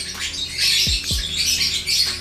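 Lovebird of a rare colour mutation calling in short, sharp squawks and chirps, close and fairly loud, with a low thumping noise underneath.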